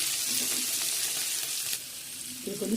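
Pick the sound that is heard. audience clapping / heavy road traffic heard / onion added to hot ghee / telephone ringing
onion added to hot ghee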